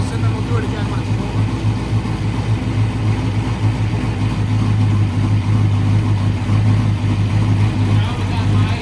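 A car nicknamed Sunburn, fitted with a new intake and running for the first time in months, idles with a steady low engine drone that stays constant and close throughout.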